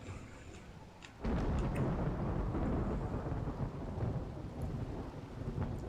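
Thunder cracks in a Rimworld game storm, then steady heavy rain pours over a low rumble, loud and continuous, with no voices.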